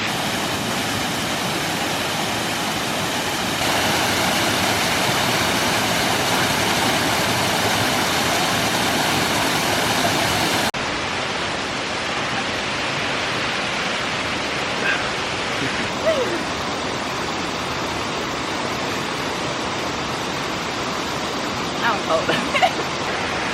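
A waterfall in Galloway Forest, Scotland pours with a steady, full rushing roar, close and loud throughout, shifting slightly in tone partway with a few faint knocks near the end.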